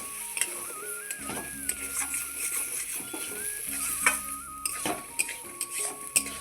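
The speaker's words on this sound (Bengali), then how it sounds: "ভালোভাবে একটু কষিয়ে নিচ্ছি" Spinach and bori are stir-fried with sugar in a pan. A spatula scrapes and clinks against the metal in uneven strokes over a soft sizzle, with faint tonal beeps in the background.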